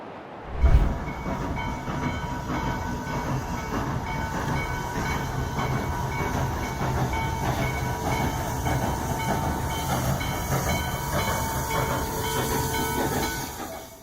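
Train passing a level crossing after a car is abandoned on the tracks: a steady, loud rumble with hiss and rolling wheel clatter, opening with a sharp thump and continuing unbroken.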